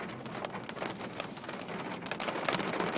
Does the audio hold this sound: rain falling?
yes